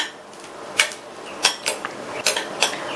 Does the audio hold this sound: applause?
no